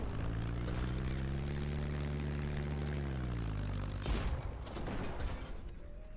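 A low droning airship engine hums steadily in the video game Black Skylands, then a couple of heavy ship gun blasts boom out in quick succession as the rumble continues.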